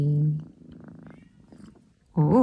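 A pet cat purrs up close indoors in a steady, soft rumble, with short voiced tones at the start and end.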